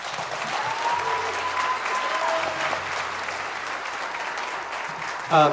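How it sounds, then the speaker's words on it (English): A school band concert audience gives the kids a big round of applause, steady crowd clapping throughout with a voice speaking over it and a sharp clatter just before the end. "Would you give your kids one more big round of applause?"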